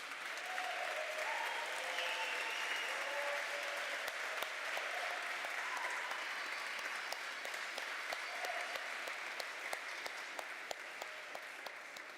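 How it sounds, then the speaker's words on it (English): Warm, sustained applause from an audience welcoming newly commissioned Army lieutenants at a university ROTC commissioning ceremony, steady and full throughout with scattered individual claps. "join me in congratulating and welcoming our new lieutenants to the profession of arms with a warm round of applause"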